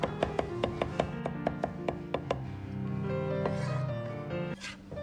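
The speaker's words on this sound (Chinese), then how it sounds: "然后再剁成蒜泥。" A knife chopping garlic on a cutting board for a home-style mushroom and egg stir-fry, with about a dozen quick, evenly spaced chops up close, then a softer stretch of scraping and rubbing.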